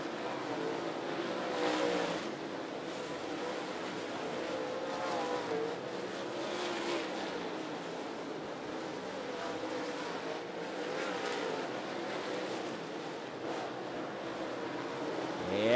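Stock cars racing at Ponderosa Speedway, a steady roar of engines passing at a distance with swelling pass-bys over about sixteen seconds, no talking, an open-air track rumble throughout.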